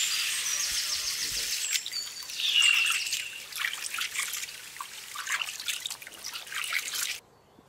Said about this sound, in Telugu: ఈ మటన్ బాగా శుభ్రంగా కడిగి పక్కన పెట్టుకుందాం.